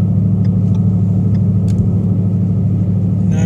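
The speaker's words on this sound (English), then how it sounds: "Under load, you get the exhaust note like you're supposed to, and cruising along normal speeds," A 2015 Ford Mustang GT with a Magnaflow exhaust and FRPP X-pipe cruising at normal road speed, heard as a steady, low, droning engine hum with road rumble and a few faint light clicks, moderate in level and without talk.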